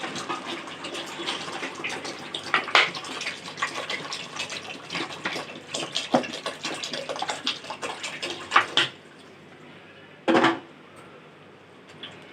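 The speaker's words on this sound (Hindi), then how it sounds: "अगर 3 गिलास चावल ले रहे हैं तो आप 6 गिलास पानी डालिए" Water is poured from a glass into a cooking pot of rice for prawn pulao, a close splashing gush with repeated pours that stops abruptly, followed by one short final splash.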